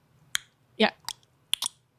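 Clicks made as percussion, likely finger or mouth clicks, in a sparse irregular rhythm: four or five sharp, close, fairly loud snaps spaced apart against near silence.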